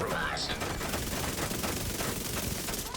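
Continuous rapid SMG fire in a video game, a dense steady rattle of shots throughout, with a voice talking over it.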